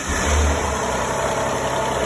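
Alfa Romeo GTA 3.2 24v V6 engine running close by after being fired up, a dense, even rumble that stays level throughout with no voices.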